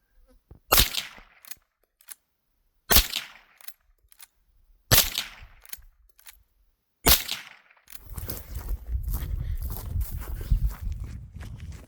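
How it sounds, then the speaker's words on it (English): Four loud, evenly spaced gunshots from a Winchester 9422M lever-action rifle fired outdoors at 50 yards, each followed by a short echo and the clack of the lever, then a stretch of rustling and handling noise. "Today I'm going to attempt to put 4 shots a little more center mass."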